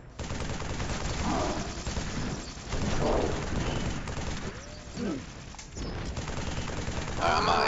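Rapid gunfire from Halo 3: ODST co-op play, sustained bursts of fusillade and machine-gun fire close up, with brief pauses and a final loud flurry, mixed with game sound effects.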